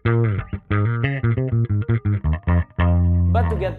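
Bass guitar played on the bridge pickup through an emulation of a vintage Ampeg Portaflex head, with a run of short punchy plucked notes followed by longer sustained tones, close and solo.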